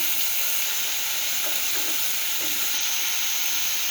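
Bitter gourd and potato fry in a pan over medium heat, giving a steady, even sizzle with broad hiss and a few faint soft bumps, with no talking.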